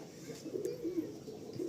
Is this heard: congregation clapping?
no